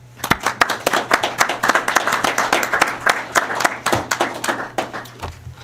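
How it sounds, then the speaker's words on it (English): A county commission meeting audience gives a round of applause, a dense run of clapping that keeps up steadily for several seconds before tapering off, with a faint voice underneath. "So both, big round of applause to both of them, please."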